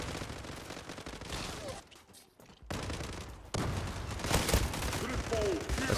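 Gunfire from an HK G3 rifle in the online shooter Zula: dense, loud bursts of rapid shots with a brief lull midway, mixed with game noise and someone talking over it.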